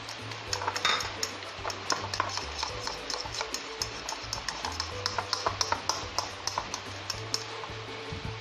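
Zucchini meatball dough being mixed with added egg white in a bowl: continuous stirring and squelching with frequent light clinks of a utensil against the bowl, close up, over a low steady background hum.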